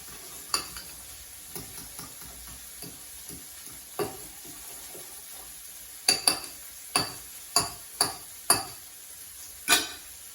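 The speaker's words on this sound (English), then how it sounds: "So you gotta mix them up real good or else you get big chunks in there." A utensil mixes pork rinds into chaffle batter in a bowl, with soft scattered scraping that gives way to sharper, fairly regular taps and knocks in the second half. Close and quiet, with no talking.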